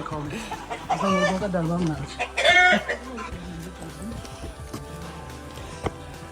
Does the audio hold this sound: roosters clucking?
yes